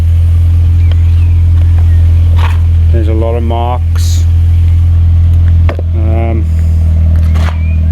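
A salvage Mini Cooper R52 idles with its belt whine gone, giving a steady, loud low engine hum that runs the whole time while a person talks briefly over it.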